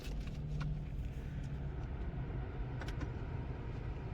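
A Mercedes-Benz GLE 450 AMG 4Matic idles steadily after a key start, giving a continuous low engine rumble close by, with faint clicks over the top and no talking.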